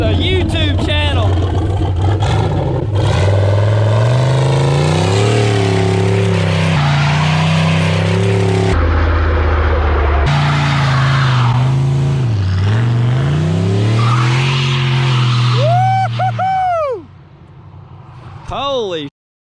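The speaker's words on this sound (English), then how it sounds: "We're about to do a burnout for the YouTube channel." Lifted Polaris Sportsman 850 ATV doing a burnout, its engine roaring loud and close as it revs up and down for a long stretch, with tire squeal at the end before the noise drops away.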